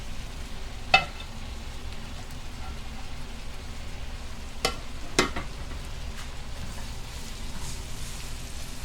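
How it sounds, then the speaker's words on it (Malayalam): Chopped ginger, garlic and green chilli sautéing in a pan for Kerala fish biryani, a steady close sizzle with a few sharp clinks and scrapes from stirring scattered through it. "അരിഞ്ഞു വെച്ചിരിക്കുന്ന ഇഞ്ചി, വെളുത്തുള്ളി, പച്ചമുളക് അവ കൂടി ഇട്ട് കൊടുത്ത് നന്നായിട്ട് വഴറ്റി"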